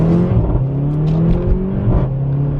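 A Mercedes GLA 45 AMG engine revs up steadily, a loud, close hum with rising pitch and occasional whirs as it accelerates, no voices.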